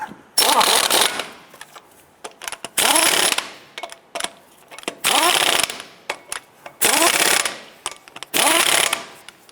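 An impact or ratchet tool runs lug nuts down on a 2007-17 Jeep Wrangler front wheel, in five loud, close bursts of rattling whir separated by short pauses with small clicks between.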